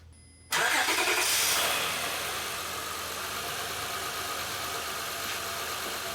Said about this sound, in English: So I'm gonna go inside the vehicle and start the engine.